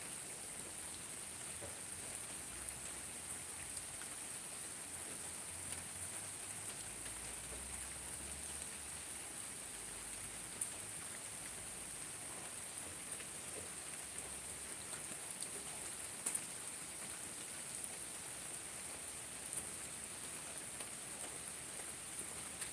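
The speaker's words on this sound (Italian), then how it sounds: "è da oggi, anzi è da stanotte che piove così" Heavy rain that has been falling since the night before keeps up a steady, dense hiss, with scattered drops tapping nearby surfaces and a faint low rumble underneath, no voices.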